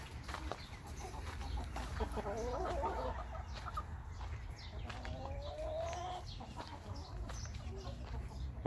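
A backyard flock of chickens clucks and murmurs as they peck at a broken egg, a steady mix of close and scattered calls over a low outdoor background.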